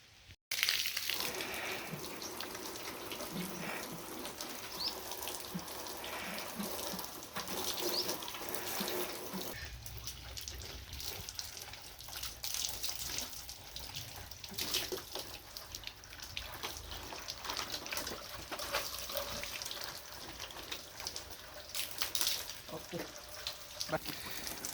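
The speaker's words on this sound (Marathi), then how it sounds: "मस्तपैकी मोटरला पाणी चालू केलं आहे, आता आपण चांगल्या गाड्या धुवून काढू।" A motor pump sends a steady stream of water splashing out for washing vehicles, a continuous rushing gush with occasional knocks and a person talking over it.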